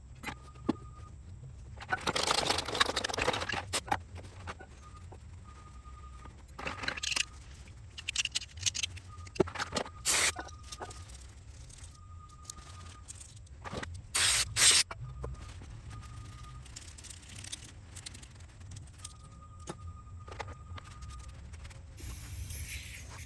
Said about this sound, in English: let's clean the driver's side one while we have the brake cleaner out